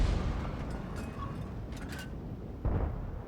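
An SU-8 self-propelled artillery gun firing in the video game World of Tanks, a heavy low boom with a rumbling tail, followed by a second deep thud near the end.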